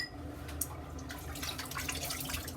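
Running water from a tap rinsing a safety razor, a steady faint trickle with small splashes, close by.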